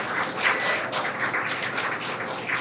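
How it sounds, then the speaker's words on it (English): A crowd at SpaceX Mission Control in Hawthorne claps and cheers in uneven rippling bursts, a moderately loud wash of applause with no talking over it. "The crowd here at Mission Control in Hawthorne cheering"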